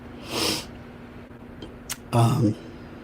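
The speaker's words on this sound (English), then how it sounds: "I'm about to sneeze." A sharp breathy burst, then a louder, fuller sneeze-like blast a moment later, close to the microphone with a faint hum underneath.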